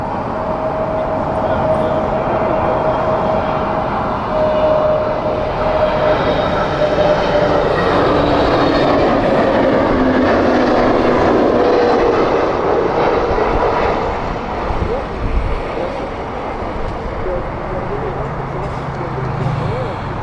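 An airliner on the Milan flight at Heathrow Airport gives a loud, sustained engine roar and whine rising through the middle and easing toward the end, with a voice speaking over parts of it.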